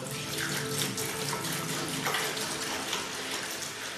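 Water pouring steadily into a bucket at a country house for mixing plaster, a continuous splashing gush, close and fairly quiet, with no talk.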